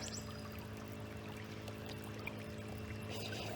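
High water pours steadily over dead logs at a lodge, a quiet, continuous rushing flow with no voices.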